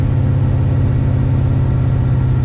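A running LSA-engined Mustang gives a loud, close, steady low engine rumble with a throbbing exhaust pulse that holds evenly throughout, no voices.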